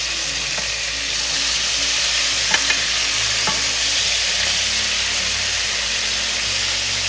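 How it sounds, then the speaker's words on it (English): Swordfish steaks sear in a pan over medium-high heat, giving a loud, steady hiss that rises after the first second. A few light utensil taps come through the hiss, and no one speaks. "Give that a good sear."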